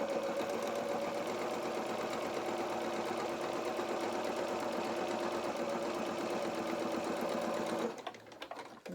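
A sewing machine stitching an elastic doll or baby shoe runs in one steady, close, loud whirring hum for about eight seconds, then stops abruptly; no one speaks.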